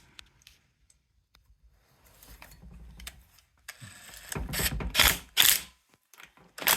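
Bolts on a Honda CT70 motorcycle are snugged down by hand with a ratchet: scattered faint clicks at first, then louder bursts of quick ratcheting close by.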